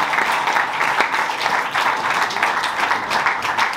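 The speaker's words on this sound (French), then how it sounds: "On peut l'applaudir" A crowd applauds steadily, dense clapping filling the whole stretch at an even, fairly loud level with no voices on top.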